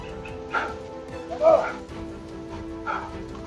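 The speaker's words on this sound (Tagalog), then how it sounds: "May mga aso tol." Dogs bark a few times at a distance, short scattered yips and barks spread out under a continuous low background hum.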